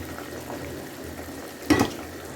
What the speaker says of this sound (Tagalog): kulong-kulo na po sila at yung kulay nila is nasa tubig na